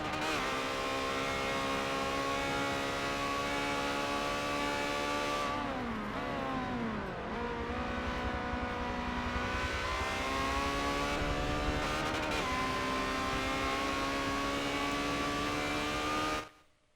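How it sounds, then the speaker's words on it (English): A train of Ferrari 360 race cars in a racing video game at Monza, screaming down the back straight into the Parabolica: continuous high, layered engine whines, with pitch dropping as cars pass, then cutting off abruptly. "See the train of cars coming down the back straight as they head into the Parabolica."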